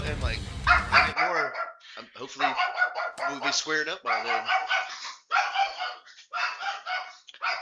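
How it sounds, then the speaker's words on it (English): Lucius the dog barks in a series of sharp, close yaps, mixed in and overlapping with a person talking. "I'm so sorry about the dog there."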